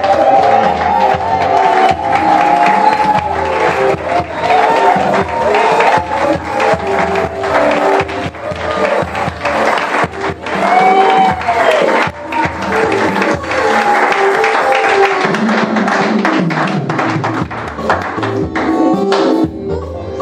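A church congregation at a Paris ministry installation applauds and cheers for Maman Elliot, dense sustained clapping and voices rising and falling over about twenty seconds, with music and shouts mixed in.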